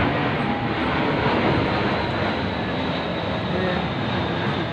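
An airplane passes low overhead behind a house on a wet day, a steady, loud broadband roar that holds evenly throughout without pause.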